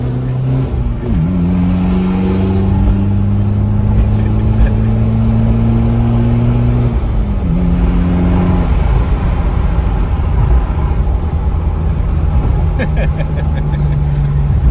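Car accelerating hard in an impromptu street race, the engine note climbing steadily through long pulls with a gear change midway, loud and close with a broadband roar and no speech.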